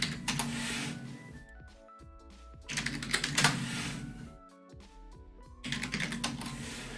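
Bursts of rapid typing on a computer keyboard while naming variables, close and crisp clatter in three clusters separated by short pauses, with no voice.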